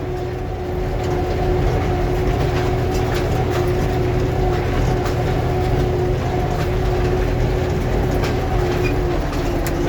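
An Armatrak tractor diesel engine works under load during a pulling test. It gives a loud, steady drone with a firm low hum and a constant mechanical rattle that holds even throughout.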